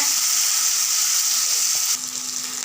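Onions, garlic and green chillies frying in a pan for a bitter gourd curry, a loud steady hiss that drops a little in level partway through, with no talking.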